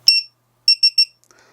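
The DroneKeeper Mini's plugged-in auxiliary buzzer gives one shrill electronic beep, a short pause, then three quick beeps in a row, loud and close with nothing else around them.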